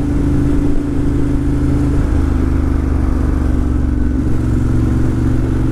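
Ducati motorcycle with a double Termignoni exhaust, one baffle removed, revving loud and close, a deep rumbling drone with a slight dip and lift in pitch and no talking.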